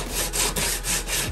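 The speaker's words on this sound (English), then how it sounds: "As I'm sanding this down, I want it to be nice and smooth" Hand sanding on plywood with a sandpaper block, with long, loud rasping strokes in a steady back-and-forth rhythm, close up.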